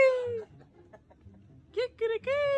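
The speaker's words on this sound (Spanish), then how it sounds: "Miren, aquí están las gallinas guachis." Backyard chickens at a family house give a few loud, close clucks and squawks in short bursts with quiet gaps between, someone speaking nearby.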